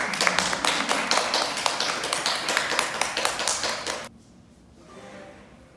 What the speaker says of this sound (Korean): 박수를 주시네요.